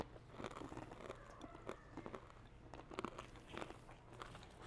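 Someone bites and chews a sugar roasted almond, producing a run of sharp, close crunches at irregular intervals over several seconds, with no talking.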